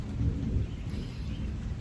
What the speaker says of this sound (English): you guys are going to hear thunder throughout this.